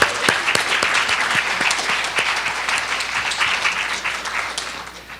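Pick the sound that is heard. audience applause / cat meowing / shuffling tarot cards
audience applause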